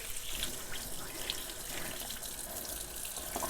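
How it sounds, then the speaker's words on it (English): Water runs steadily from a kitchen tap while hands are rinsed, a constant hissing splash for a few seconds, fairly quiet and with no talking. "I'm just going to rinse these hands off really quickly"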